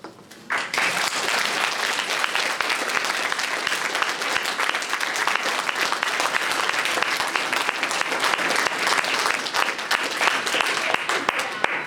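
A convention panel audience for RWBY at Shuto Con 2015 breaks into applause for Monty, starting abruptly and holding as sustained, dense clapping from a large crowd.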